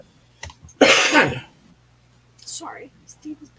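A single short cough bursts out close by, followed a moment later by a brief voice and a few small throat sounds against a quiet background hum.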